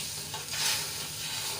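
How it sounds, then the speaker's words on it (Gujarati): Sugar and tempering bubbling in a pan while making khaman, a brief close sizzling hiss with a small swell in the middle, steady and alone. "બે ચમચી જેટલી ખાંડ એડ કરીશું અહીંયા તમને જેટલા ગળિયા પસંદ હોય એ પ્રમાણે તમે ખાંડ એડ કરી શકો છો એ આ વઘારને આપણે ઉકાળી લઈશું"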